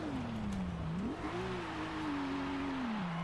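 Car engine in the Forza Horizon 5 driving game holds a steady mid-pitched drone that dips and rises as revs shift over about three seconds, close and continuous over road and tire noise.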